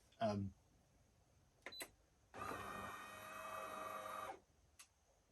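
A De'Longhi Prima Donna espresso machine runs its heat-up and self-cleaning cycle: a brief click and whir, a couple of short clicks, then about two seconds of steady motor hum and pumping before a final faint click.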